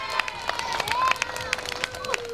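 An audience claps and cheers for the president of a neighbourhood association at an evening community gathering, dense applause mixed with whistles and voices throughout.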